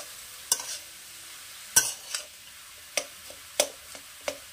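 Sweet filling for bhapa pitha cooking in a pan, with a faint steady sizzle under a series of sharp, irregular ladle taps and scrapes against the pan, close by and with no talking.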